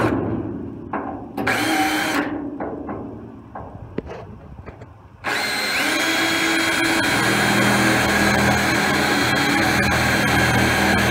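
A few short drill bursts, then a long continuous whine of an electric drill with a larger bit boring into the metal hood of a Ford F100 truck, running steadily and loudly, with no talking.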